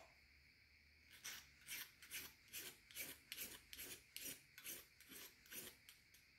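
A file rasps the burr off a freshly machined part held in a Glacern mill vise, about ten even rhythmic strokes sounding close, crisp and scratchy in a quiet shop with no talking.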